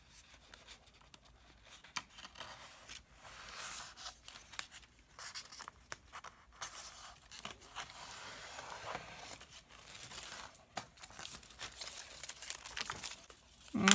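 A blade cuts along the edge of a removable masking film liner during sign painting, producing faint, close, irregular scraping and crinkling rasps that start and stop over several seconds, quiet with no talking.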